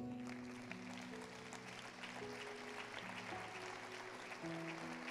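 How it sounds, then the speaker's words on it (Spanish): Congregation applauding in a church during a sermon by Pastor Juan Carlos Harrigan, a steady, fairly faint wash of clapping with sustained organ or keyboard tones underneath. "Dele un aplauso al Señor."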